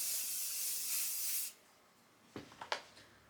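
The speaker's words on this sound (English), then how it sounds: "Get some more hairspray." Hairspray from an aerosol can hisses in one steady, close burst for about a second and a half, followed by a few soft rustles and taps as the hair is handled.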